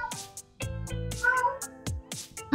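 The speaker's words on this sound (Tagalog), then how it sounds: "Pasensya na kayo sa aking pusa." A pet cat meows several times in quick succession, close and fairly loud, each cry short and rising, with brief gaps between them.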